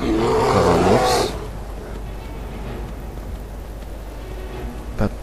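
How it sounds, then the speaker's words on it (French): A bear's deep, growling roar in a video game bursts out at the start and fades into a low rumbling background, followed later by a short thump. "Encore un ours."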